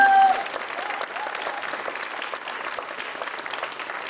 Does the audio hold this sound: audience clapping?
yes